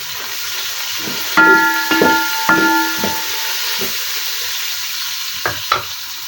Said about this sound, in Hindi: प्याज को हमने गोल्डन ब्राउन करने तक पका लेना है।